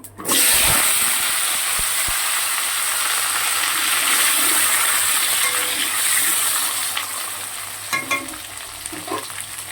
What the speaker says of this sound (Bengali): আমি এতে ফোড়নে দেব দুটো গোটা শুকনো লঙ্কা, একটুখানি সাদা জিরে।